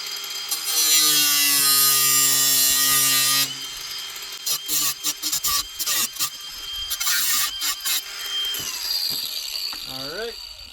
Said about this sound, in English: Next step, I'm gonna start chopping.